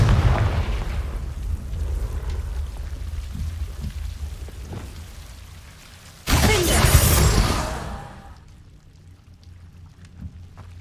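A Confringo explosive spell in the Hogwarts Legacy video game, heard as a sudden loud burst that roars over a rumbling, rain-like background for about two seconds before fading into quiet.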